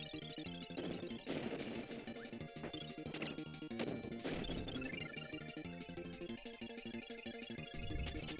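Kirby Super Star crash ability unleashing a screen-clearing explosion, a dense burst of game crash and blast effects layered over bright chiptune music.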